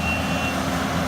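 Heavy truck laboring up a steep hill, its engine a dense low rumble with a steady high reversing beep tone running through the first half, loud and close with no talk.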